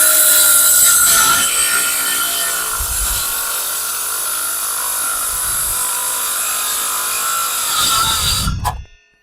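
A Vitals Master ARg 18165 SmartLine+ cordless circular saw whines loudly and steadily as it cuts through wood for several seconds, then winds down abruptly at the end.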